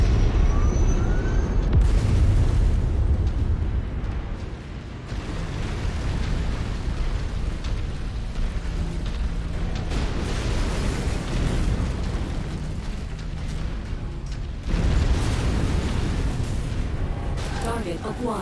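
A mech explodes in the video game MechWarrior 5 amid a loud, rumbling battle, with heavy booms and a fresh blast bursting in near the end.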